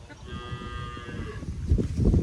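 A cow on a village farm lets out one near, loud moo that swells toward the end of the brief moment, with no talking over it.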